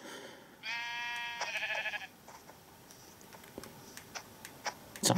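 A sheep in Minecraft, the block-building game, gives a loud wavering bleat, followed by scattered small clicks and taps from the game, ending in a louder thud.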